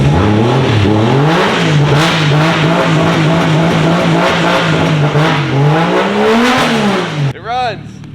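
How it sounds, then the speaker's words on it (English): A car engine with a mass airflow sensor fitted backwards runs loud and close, its pitch swelling and settling through several revs before cutting off abruptly near the end. "It runs. It revs. We hear it. Sounds great."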